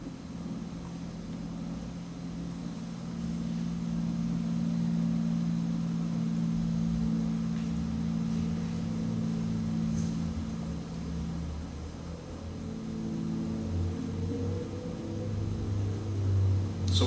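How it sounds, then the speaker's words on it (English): Near-silence from 500 protesters standing absolutely quiet in a standoff with police, leaving only a low steady rumble and hum of distant engines or machinery with faint ambient noise throughout. "So what you hear is 500 people being absolutely quiet."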